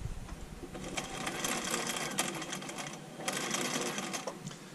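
A Husqvarna Viking 6460 sewing machine stitching in reverse, its needle mechanism whirring and clattering steadily and close up, with slight surges in speed.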